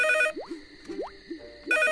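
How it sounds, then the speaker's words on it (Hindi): A cartoon telephone rings in repeated electronic bursts, with short rising chirps in between the rings, loud and close and heard alone without any voices. "कौन फोन कर रहा है बार बार?"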